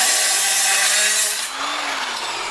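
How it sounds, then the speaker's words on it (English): A small piece of sheet metal, held in a C-clamp and bench vise, being cut during a Chevy Astro/GMC Safari radiator core support job: a loud, continuous harsh rasping cut whose pitch dips partway through. "hold the metal with the C-clamp, I feel works really well to cut smaller pieces of sheet metal"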